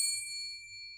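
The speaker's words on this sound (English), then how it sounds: "a double bell will ring to indicate the start of the exam" Exam start bell: one bright, clear metallic ding that rings out and decays slowly in a quiet room, heard alone.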